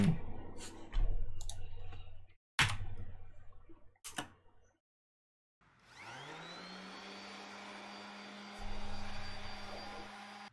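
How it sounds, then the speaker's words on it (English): An orbital sander fitted with 320-grit paper works over the cast surface of a jointer. A few sharp clicks come first, then the motor whirs up into a steady, close, buzzing hum that holds to the end. "I'm cleaning up the surface of this joiner using my orbital sander. And I have 320 grit"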